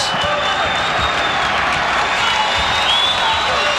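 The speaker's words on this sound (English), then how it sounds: "Crowd exhorting the home team here" Arena crowd roaring and cheering for the home Detroit Pistons during a 1992 NBA basketball game against the Indiana Pacers, a dense, steady wash of voices, whistles and whoops that fills the whole clip.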